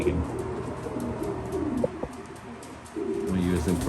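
A racing pigeon coos in a pigeon loft, low soft repeated coos over a murmur of nearby voices.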